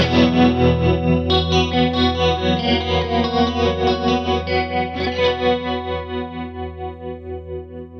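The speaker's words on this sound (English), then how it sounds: "have a very vintage sounding strong chorus" Electric guitar chords played through a Kemper with a strong vintage-style chorus effect, a close, steady wavering shimmer with a regular pulsing throb across the whole phrase and no talk.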